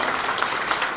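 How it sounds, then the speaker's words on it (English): Steady broadband clapping from an audience at a hall of fame celebration for a drag strip, continuous and fairly loud throughout with no talk over it. "Steve Gibbs ought to get a round of applause for that one."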